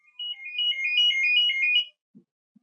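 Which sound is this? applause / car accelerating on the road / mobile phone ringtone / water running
mobile phone ringtone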